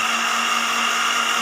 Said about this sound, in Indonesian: ini jusnya kita blender